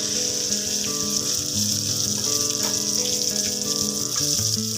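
Slices of pointed gourd (potol) frying in oil in a pan, giving off a continuous, even sizzle and crackle with no pauses, along with a faint background hum.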